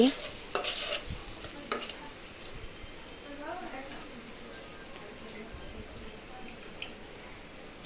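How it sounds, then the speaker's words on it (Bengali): A spoon stirs khichuri in a cooking pot, scraping and clinking, with a few sharper knocks near the start, then a steady, soft wet shuffling. Faint sizzling sits underneath. "একটু নাড়াচাড়া দিচ্ছি"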